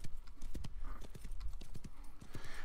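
Horse hooves clip-clop at a steady trotting pace in the Wild West Online video game, a dense run of close, loud, rhythmic thuds with little else around them.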